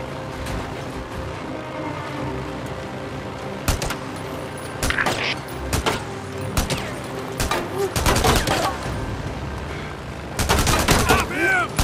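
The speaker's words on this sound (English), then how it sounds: "Shoot the bike, Dick!" Gunfire rings out in the Days Gone video game as shots are aimed at a bike. Sharp bursts and single shots land among engine and vehicle noise, with people shouting in between.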